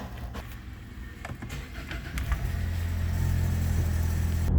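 A car with cleaner just added to its transmission drives along, a steady engine and road rumble building gradually as it picks up speed, with no talk over it.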